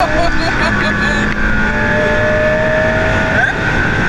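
A McLaren P1 drifting, its engine a loud, close, sustained roar with shifting pitch, and voices talking over it.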